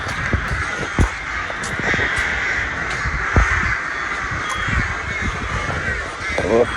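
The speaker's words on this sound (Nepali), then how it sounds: "यहाँ त त्यो रुखभरि सबै देखेको काग हो" Crows cawing from a tree full of them in Romania, repeated harsh caws near and far over steady outdoor background noise, with a few sharp louder calls standing out.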